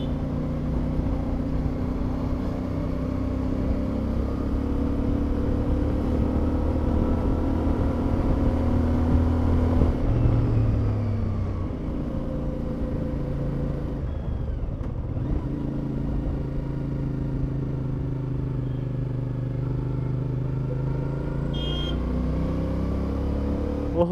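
Continuous low engine drone of a CF Moto 450 MT motorcycle on a ride to a temple, steady and close with a dip in pitch midway and no speech.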